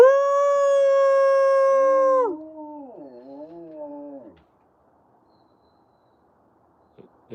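A young Malamute dog at a wolf center howls in a long, steady, loud tone for about two seconds, then slides into a lower, wavering howl that fades out, followed by near silence with a couple of faint clicks.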